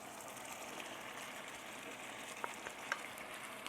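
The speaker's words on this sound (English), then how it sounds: "Now I'm gonna add my celery and my mushrooms" Celery and baby portobello mushrooms go into a hot pot for chicken cacciatore, producing a steady, fairly quiet sizzle with a couple of faint clicks of utensils.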